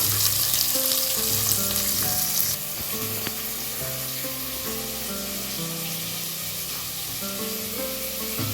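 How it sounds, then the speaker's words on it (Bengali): Sliced onions fry in hot oil for a chicken biryani, a steady close sizzle with occasional stirring scrapes running continuously, loud at first and slightly softer after a few seconds. "এখন তেল গরম হয়ে গেছে, এটার মধ্যেই তো দম দেবো, তাই এটার মধ্যেই ভাবলাম পেঁয়াজগুলোকে এক এক করে ভেজে নিই।"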